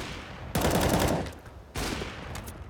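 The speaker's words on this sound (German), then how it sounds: "der Schuss ging knapp an ihm vorbei" Gunfire rings out in a Counter-Strike match on the map Train at ESL One New York 2017, two loud bursts of rapid shots with echoing tails, each abrupt and close.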